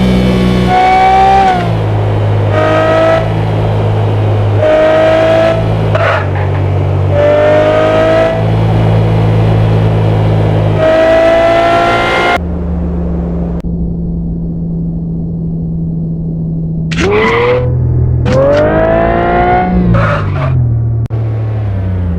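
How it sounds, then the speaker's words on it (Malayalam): A Toyota Supra engine revs hard in the mobile version of GTA 5, rising and falling in repeated loud bursts, then settling into a steady drone before climbing again in several sharp revs. "ഇതും സുപ്രയുടെ സൗണ്ട്."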